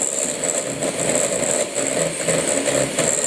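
Electric hand mixer whisking fairy cake batter in a bowl, a continuous buzzing motor drone with faint rhythmic scraping as the beaters move around the bowl, close and steady.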